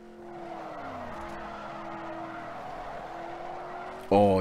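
SCG 004S supercar drifting in Rebel Racing, a steady engine drone with a sustained tire squeal that shifts in pitch, ending in a short loud burst.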